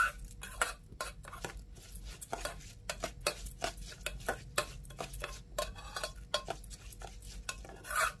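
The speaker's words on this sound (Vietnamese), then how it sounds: "Rồi mình cho một muỗng luôn ha, mình trộn đều lên nha quý vị, cho cái phần gạo nó thấm đều gia vị" Cooked rice being mixed with chili sauce seasoning for a vegetarian Bodhi rice dish, a quiet run of irregular spoon scrapes and light clinks against the bowl, close and without talk.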